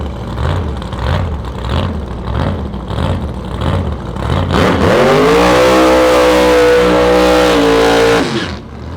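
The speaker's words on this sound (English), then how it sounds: "Some gassers, AA gassers. Up against the Hemi J." AA gasser drag cars at a drag racing meet, idling with a loping, pulsing rumble before one engine revs up hard into a loud sustained roar for several seconds, then cuts off abruptly.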